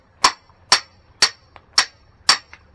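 A hammer drives a small hatchet into a piece of wood to split off corners for kindling, giving five sharp, evenly spaced metallic strikes close to the microphone, each with a brief ringing decay.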